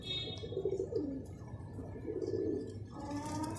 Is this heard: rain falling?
no